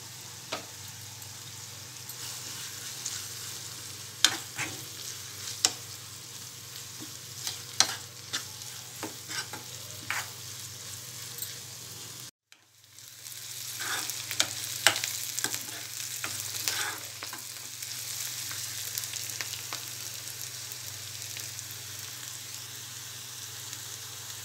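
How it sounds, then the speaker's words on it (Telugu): Onion pieces frying with turmeric in a pan for an onion and chana dal curry, with a continuous sizzle and irregular spoon clacks and scrapes from stirring, briefly cut to silence midway before resuming louder. No talking. "ఉల్లిపాయ ముక్కలు కొద్దిగా ఫ్రై అయిన తర్వాత పసుపు వేసుకోవాలి."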